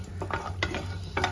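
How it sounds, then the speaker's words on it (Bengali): Bori lentil dumplings fry in oil in a kadai. A soft sizzle runs underneath three quick bursts of stirring and scraping, all close and brief. "বড়িগুলোকে হালকা লাল করে ভেজে নেব"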